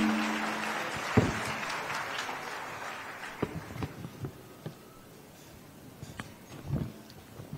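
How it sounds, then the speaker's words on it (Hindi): At a Jharkhand government event, an audience welcomes a speaker with fairly quiet, diffuse applause. It fades into scattered, irregular claps and taps over several seconds. "जोरदार तालियों के साथ स्वागत कीजिए"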